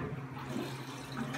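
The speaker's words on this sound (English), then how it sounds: "I'll give it one more flush just to make sure" A toilet flushing after installation, a steady broadband rush of swirling water that holds at even loudness throughout, close by with no talking.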